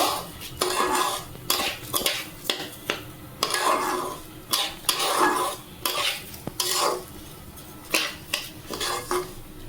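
Khichuri ingredients fry in a pan while being stirred vigorously, with repeated metallic scrapes and clatters of a spoon against the pan over a light sizzle. The sound is close and rhythmic, and no one speaks.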